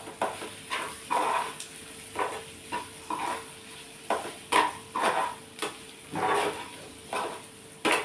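A spatula stirring mushroom fry in a pan, scraping and clinking in repeated short strokes over a steady low sizzle, close and moderately quiet with no talk.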